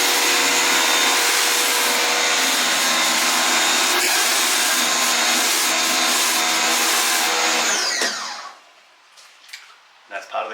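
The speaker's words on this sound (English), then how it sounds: "So this rotary head will spin and make it a bit easier to take care of doing quite large area of concrete" A pressure cleaner fitted with a rotary surface head roars loudly and continuously across concrete, a steady close wash that cuts off near the end, leaving brief scattered knocks and faint sounds.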